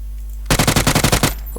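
Rapid automatic gunfire in the PUBG video game on PC: a loud burst of about ten evenly spaced shots in quick succession, following a quiet start and ending abruptly.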